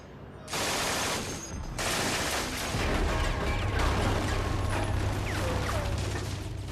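A German MG-42 machine gun fires in long, rapid bursts so fast the individual shots blur into one continuous tearing roar, loud and sustained alongside other battle noise.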